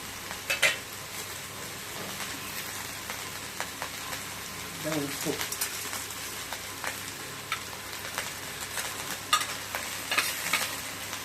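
Brinjal sizzles in a pan for a brinjal, drumstick and green pea stir-fry, with a constant crackling hiss broken by intermittent taps and scrapes of stirring.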